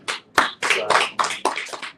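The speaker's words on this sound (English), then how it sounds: "Please let's give a round of applause to" A small audience at a real estate sales talk gives a round of applause, a sparse run of separate, fairly close handclaps in an uneven rhythm with no talk over them.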